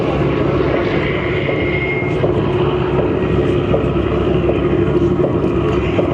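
An Australian CAC Boomerang propeller fighter flies at an airshow, its steady loud engine drone filling the air continuously without letup.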